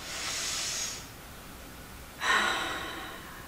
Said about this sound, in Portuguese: Procure respirar profundamente, oxigenando todo o seu cérebro.